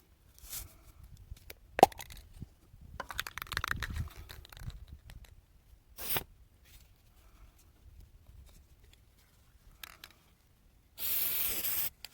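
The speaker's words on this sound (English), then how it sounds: "Well, spray paint, that is." Several short hissing bursts of an aerosol spray can, irregularly spaced among quiet handling clatter, ending with one longer, steady spray.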